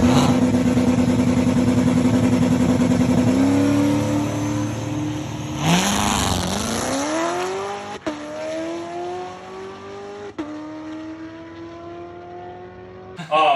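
A turbocharged LS-swapped Camaro sits at a loud steady idle on a two-step, then launches on a test drag pass. The engine roars up through the gears with clear shift breaks and fades slightly as it pulls away.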